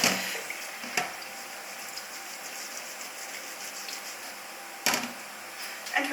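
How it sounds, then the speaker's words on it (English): Cold tap water runs over drained pasta in a colander, a steady hissing splash with a couple of louder clanks and bursts near the start and end, close by. "shortly rinse it with some cold water to stop it from cooking."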